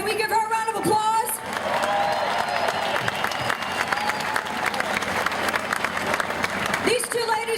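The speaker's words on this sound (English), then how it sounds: "Can we give her a round of applause?" A Tea Party rally crowd gives loud applause mixed with cheers and whoops, dense clapping sustained for several seconds, with a voice speaking briefly at the start and again as it ends.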